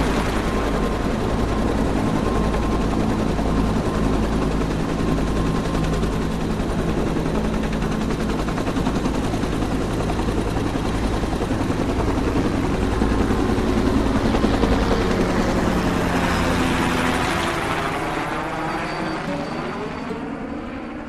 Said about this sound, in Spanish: salió arma en mano al escuchar el ruido del helicóptero